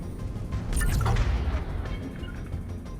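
Explosions in the video game Mass Effect 3 rumble through a dense, noisy wash of low booming and crackling debris, a heavy blast swelling in the middle and then fading, with no talk.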